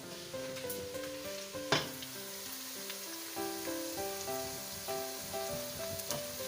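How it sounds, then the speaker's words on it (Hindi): Ginger frying in a pan, a soft continuous sizzle with a sharp clatter partway through, sitting under a melodic background music track with no speech. "हमारा अदरक भी देखिए भून चुका है"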